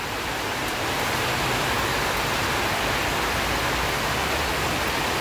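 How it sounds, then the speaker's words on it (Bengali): Heavy rain pours down in a dense, constant roar, loud and unbroken from start to finish with no voices. "যদি এই বৃষ্টি এখন থেকে নিয়ে সারা রাত চলে"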